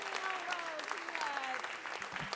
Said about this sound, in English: Give a round of applause for Sydney!